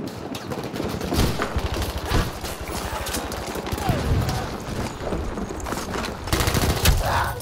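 Machine gun fire in the Battlefield 1 video game, a dense sustained fusillade of rapid gunshots with scattered louder bursts, close and continuous, with shouting voices in the mix.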